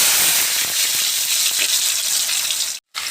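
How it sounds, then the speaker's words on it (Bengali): Potatoes frying in hot oil in a wok for a vegetarian soybean curry, a loud, dense, steady sizzle that cuts off abruptly near the end. "তেলটা হয়ে এসছে আমার আমি এবার আলুগুলোকে ভেজে নেবো ভালো করে"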